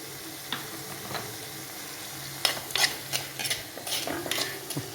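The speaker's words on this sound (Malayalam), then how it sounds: "ഒരല്പം വെളിച്ചെണ്ണയും കൂടെ നമുക്ക് ഒഴിച്ച് ഒന്ന് ഇളക്കി കറി സ്റ്റൗ ഓഫാകാം" A utensil scrapes and stirs a chow chow (chayote) stir-fry in a pan over a soft sizzle after coconut oil is added, with a few sharper clinks toward the end.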